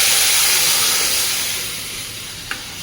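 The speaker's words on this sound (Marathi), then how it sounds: "मोहरी व्यवस्थित तडतडली की अर्धा चमचा जिरं घालायचं" Hot oil sizzles and hisses steadily with fine crackling, close up, with a single small pop near the end and no talking.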